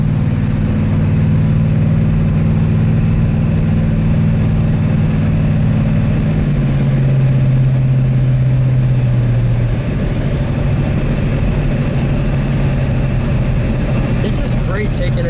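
A 1970 Buick GSX 455 Stage 1 V8 cruising on a country road, its deep steady engine drone and rumble continuous and loud throughout, with a brief shift in pitch midway as the car rolls on.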